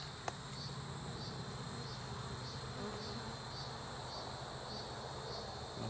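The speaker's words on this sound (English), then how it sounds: "Bees are hanging on the bottom." A swarm of bees clustered hanging beneath a support, giving a steady, continuous buzzing drone close by with no talk and a faint click near the start.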